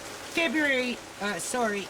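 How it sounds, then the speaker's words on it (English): Heavy rain pours outdoors in March, a steady broadband hiss running throughout beneath a person talking close by. "it's pouring rain out here"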